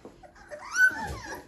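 A young puppy, one of a litter of newly eyes-open pups, whimpers and whines in a short, faint, breathy cry, close by and alone.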